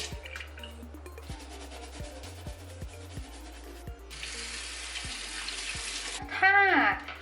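A bathroom tap runs while a makeup brush is rinsed, giving a steady wash of water with soft clicking drips and knocks, then a louder splashing burst near the end.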